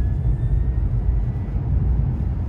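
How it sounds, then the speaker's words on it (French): A 2023 Tesla Model Y SR+ electric car accelerating, a steady deep rumble with a thin, high jet-like whine riding above it, heard from inside the car. "Le bruit de réacteur d'avion,"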